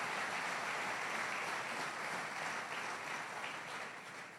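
A church congregation applauds together, a dense steady wash of clapping that carries on throughout and fades slightly toward the end, with no voices rising above it.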